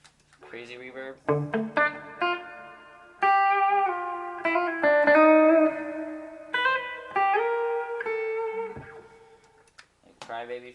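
Electric guitar notes and chords through a reverb pedal into a Mesa Dual Rectifier Roadster head ring out in a long wash of echo, played in separate bursts with a voice briefly heard at the end.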